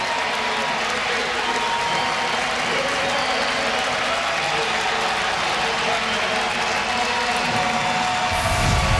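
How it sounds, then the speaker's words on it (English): Stadium crowd at a USA versus Mexico soccer friendly applauding Jordan Morris, a broad, steady wash of clapping and crowd noise filling the whole stretch, loud and unbroken. "a deserved round of applause for Jordan Morris"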